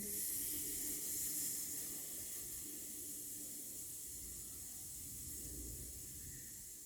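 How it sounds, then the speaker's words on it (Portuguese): A deep breath taken slowly, a soft airy hiss of inhaling and exhaling close to the microphone, gently swelling and fading, with no talking. "Primeiro eu vou tomar uma respiração profunda"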